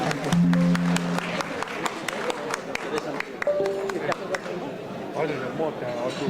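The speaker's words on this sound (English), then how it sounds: "Let's give the big claps to Deepadai." An award ceremony audience claps for Deepadai, a dense stretch of applause running the whole time with crowd chatter beneath and a voice speaking over it.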